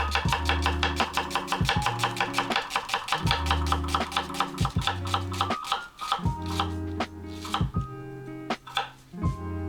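An onion is chopped with a knife on a board for a French Picardy ficelle crêpe dish: quick, evenly spaced cutting strokes tap out a steady rhythm over tonal background music.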